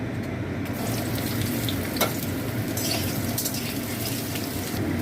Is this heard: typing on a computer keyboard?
no